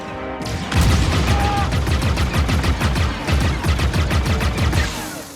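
Rapid blaster gunfire in the video game Star Wars Outlaws, dense repeated loud shots after a brief quiet start, continuing as a sustained volley.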